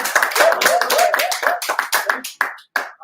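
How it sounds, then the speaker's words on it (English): Hand clapping from a small group, a quick run of claps that thins out toward the end into a few scattered, separate claps, fairly close. "I want to clap"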